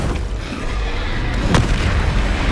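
Flipendo spell cast in Hogwarts Legacy, a loud magical blast with a sharp burst at its peak over a dense, rumbling game soundscape.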